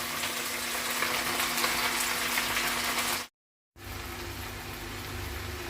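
Oil sizzling in a pan of okra: a loud, steady, close hiss that cuts out for a moment, then carries on.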